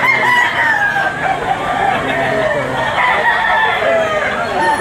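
A rooster crows loudly and close at a Philippine chicken auction market, a long drawn-out call over a noisy backdrop of other fowl clucking and calling.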